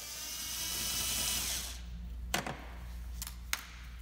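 A power driver whirs steadily for under two seconds while backing out a Phillips screw behind a Honda Civic coupe front bumper, followed by a few sharp clicks and taps of plastic parts nearby.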